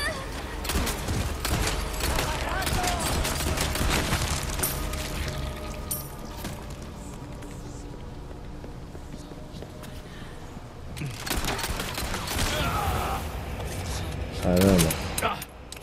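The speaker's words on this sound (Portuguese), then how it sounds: "Ele tá atirando." Rapid gunfire bursts in Resident Evil 4 Remake on PS5, set around the Salazar temple and church puzzle, mixed with clanks, footsteps and game sounds, with voices talking over the action.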